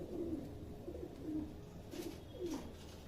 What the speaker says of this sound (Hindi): बहुत कम नसीब होते हैं ऐसे कबूतर।